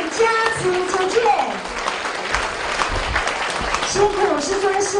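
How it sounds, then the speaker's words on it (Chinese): Audience applause at a temple ceremony, a sustained crowd clapping close and loud, with a voice over the clapping and some tonal sounds in the background. "我们特别热烈的鼓掌"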